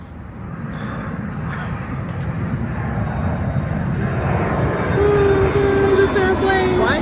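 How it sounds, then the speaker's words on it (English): An airplane roars overhead near an airport, a loud, steady broadband rumble that swells toward the end, with a thin whining engine tone emerging as it passes close. "This airplane. Why did I decide to record by airport?"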